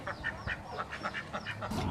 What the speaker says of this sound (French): Messieurs, mesdames, les canards.